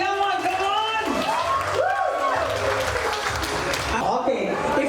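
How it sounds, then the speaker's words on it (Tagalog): Wedding guests clap and cheer loudly for the newlyweds, with shouts and whoops over a bed of applause and chatter throughout. "Malakas ang palakpakan at hiyawan."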